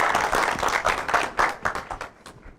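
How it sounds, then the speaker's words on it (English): Steady clapping from an audience, dense and sustained at first, then thinning out and fading toward the end. "Give Christian a big round of applause"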